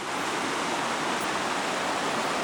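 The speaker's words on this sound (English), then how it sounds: "We got a stream running down right here in front of where we parked. And it's a pretty good flow of water coming through here" A stream in Vermont with a good flow of water rushes steadily and loudly, a dense, even hiss with no voices over it.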